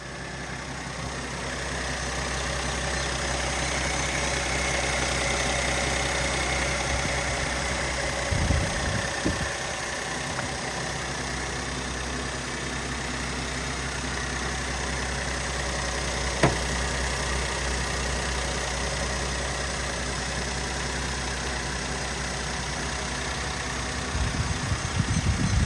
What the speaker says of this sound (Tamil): இப்போ நம்ம இந்த வண்டியோட இன்ஜினை ஸ்டார்ட் பண்ணி இன்ஜினோட சவுண்டு எப்படி இருக்குன்றத நம்மளோட கேமராவை இன்செர்ட்